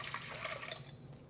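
Lukewarm water being poured into a tabletop mixer bowl for bread dough makes a brief, faint liquid splash and trickle, close by and quiet.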